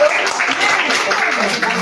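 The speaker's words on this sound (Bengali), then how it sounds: "একবার জোরে হাততালি চাইবো দিশার জন্য" A crowd applauds for a singer at a music school's opening ceremony, sustained dense clapping filling the short stretch at steady loudness with some voices mixed in.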